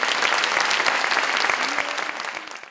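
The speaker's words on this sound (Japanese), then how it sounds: "今一度拍手お願いします。" Audience at a film premiere stage greeting for the Japanese film Utahime breaks into loud, dense applause that holds steady for a few seconds, then tapers slightly toward the end.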